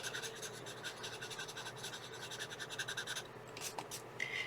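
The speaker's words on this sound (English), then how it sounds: "go ahead and take a blending pencil" Blending pencil rubbed over a colored pencil drawing of a serpent dragon in water, a close, quiet, continuous scratchy scribbling in short repeated strokes, with no talk.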